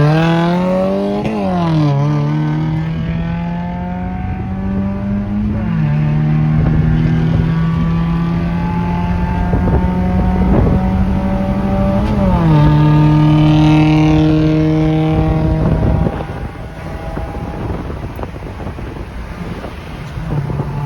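A Mazda Miata and a turbo car accelerate hard, engines climbing through the revs with repeated gear changes over about fifteen seconds, loud and close with wind rushing past, then settling into a steadier drone.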